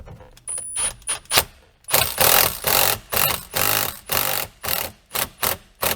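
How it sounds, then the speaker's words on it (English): A ratchet tightens the steering wheel nut on a Porsche 911 997.1, a steady run of close, loud clicking strokes repeating in an even rhythm, with no talking. "So we will see what we can do to tighten it down and then get it to torque."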